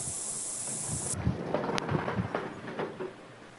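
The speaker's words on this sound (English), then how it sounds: "Got a little of this rain." Rain falls outdoors while a sharp crack of thunder sounds, followed by rumbling and patter of drops that fade slightly toward the end, with no voices.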